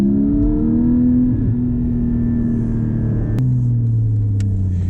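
A Porsche 718 Cayman GT4 with a manual gearbox blips its engine to match revs on a downshift, a loud close rumble whose pitch dips and then settles into a steady lower drone.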